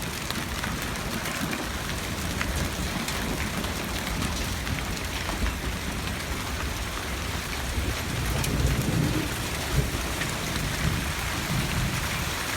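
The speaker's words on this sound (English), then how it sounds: "I hear thunder." Heavy rain and hail pound steadily during a strong Fresno thunderstorm, with thunder rumbling underneath as a loud, continuous, close wash of noise that swells slightly near the end.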